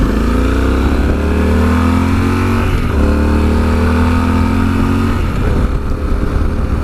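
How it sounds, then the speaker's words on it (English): A 2017 Yamaha XT1200Z Super Tenere motorcycle accelerating hard, its engine loud and close, climbing through the gears with rising pitch in several sweeps and short dips at each shift. "Yeah, the bike picks up really well."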